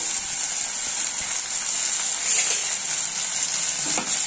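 Eggplant pieces sizzle steadily in a hot pan over high flame, with light scraping as they are stirred, close and continuous with no talking.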